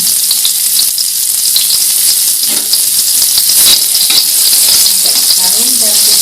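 Shallots sizzle in hot oil for fried rice, a loud constant crackling fry with scraping stirring sounds and occasional bubbling pops, close up and uninterrupted.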